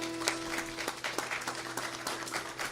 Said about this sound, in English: Give the whole hall a big round of applause.